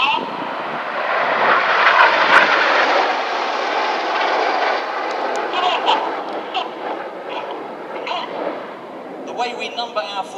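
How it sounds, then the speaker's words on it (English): Formation of RAF Red Arrows jets sweeping past in line astern at an air display at Epsom College, a loud broad jet roar that builds and slowly fades, with some voices in the background. "Here they come. Pilots now use a lot of rudder. They're using their feet to swing the jets out like a pendulum in line astern formation."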